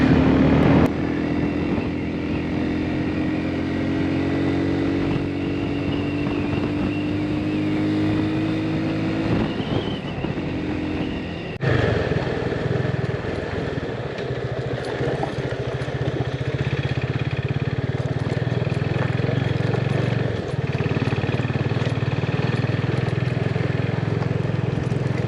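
A motorcycle engine drones steadily while riding a slippery mountain road in Spiti Valley, with wind buffeting the microphone throughout and a brief shift in tone midway.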